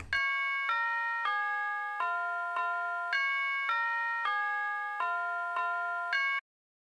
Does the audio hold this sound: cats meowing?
no